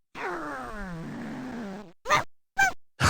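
A person imitates a dog barking inside the Gabriel Knight adventure game: a long strained, growling vocal howl, then three short sharp bark-like yelps, loud and close with no other sound.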